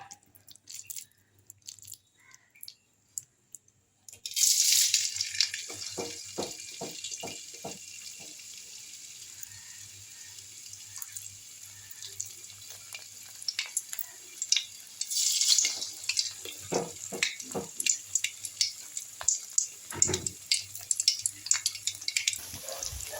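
Leftover-rice pakoras fry in hot white oil in a wok, a bright bubbling sizzle that starts abruptly after near silence, with scattered sharp pops and occasional utensil clicks continuing steadily up close.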